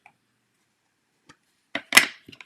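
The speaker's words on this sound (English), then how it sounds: "I'm kind of being noisy with these blocks" A handful of hard wooden knocks and clacks from rubber stamp blocks land close together, a few sharp taps then a louder cluster, with no voices.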